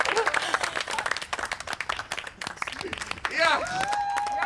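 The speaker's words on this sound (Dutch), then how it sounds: "Mag ik een daverend applaus" Applause and clapping from a crowd greeting a singer at a karaoke-style performance, a dense wash of hand claps under overlapping chatter and cheering, with a sustained whistle or tonal sound rising near the end.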